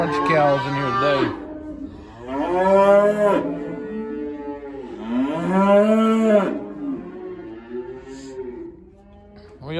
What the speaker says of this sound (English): Bunch of cows in here today.